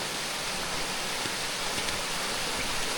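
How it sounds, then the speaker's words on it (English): A flowing creek cascades steadily in a fern-lined woodland, a dense, even rush of water close by that fills the whole stretch without pause. "Oh, the stream's beautiful though."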